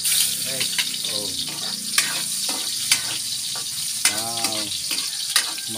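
Garlic and onion frying in a pan, with a steady loud sizzle throughout and scraping stirs at intervals. A person speaks briefly over the cooking.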